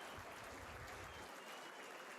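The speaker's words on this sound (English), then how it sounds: "rapturous applause here for their new signing" A stadium crowd at a Strasbourg versus Sturm Graz pre-season friendly applauds a new football signing, a dense, even wash of distant clapping that carries on throughout at low volume.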